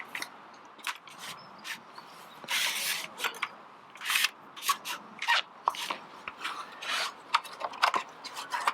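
Metal camper leg on a Little Goat Billy camper folded back and clipped in place: scattered close rubs, scrapes and sharp clicks at irregular intervals over a quiet background.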